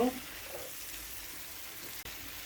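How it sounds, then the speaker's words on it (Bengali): Fried fish pieces sizzle steadily in hot oil and chili spices in a pan, a quiet even frying hiss with a brief stir near the start. "আমি মাছটা আগে সুন্দর করে কষিয়ে ভুনে নেব।"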